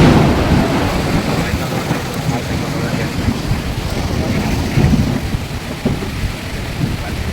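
Steady, loud rain pours down outdoors near a cattle sale spot in Davanagere, a dense continuous hiss with low rumbling beneath and a voice faintly present.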